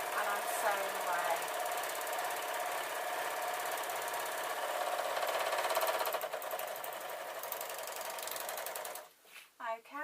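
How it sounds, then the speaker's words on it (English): A sewing machine stitching cloth for a small tote bag, running in a fast continuous mechanical rattle that stops near the end, followed by a few brief clicks and a voice. "I've got all the bits of my cloth and I'm sewing away"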